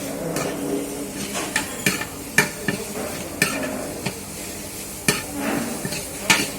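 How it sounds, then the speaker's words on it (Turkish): Meat for tantuni sautés in hot oil on a pan, sizzling steadily while a utensil scrapes and clanks against the metal in irregular, fairly loud strokes, close up and with no voices. "önce yağ, sonra toz ver, kavurmaya başlıyoruz böyle"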